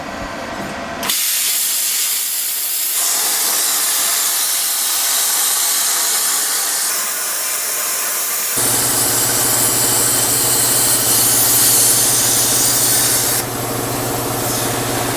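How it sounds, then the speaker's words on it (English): A cutting table slices through half-inch steel plate, giving a loud, steady roaring hiss that jumps in tone about a second in and again past the halfway mark, with no one talking. "That is the first time cutting some 1/2 inch on the table."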